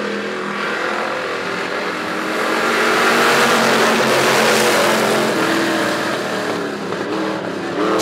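Super stock race cars accelerating hard on a restart, a loud roaring wash of engines that swells in the middle as the pack surges past, then eases slightly, with no talk.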